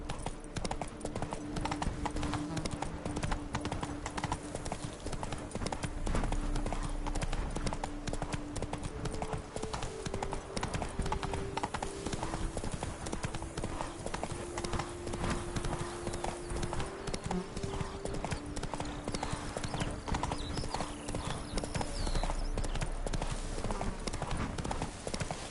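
Roach the horse galloping in The Witcher video game, fast continuous hoofbeats drumming evenly for the whole stretch over a dense music and ambient bed.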